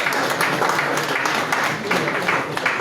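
Audience applause at a Natural Capital Accounting small grant program event in Liberia, steady broadband clapping filling the whole moment at moderate loudness.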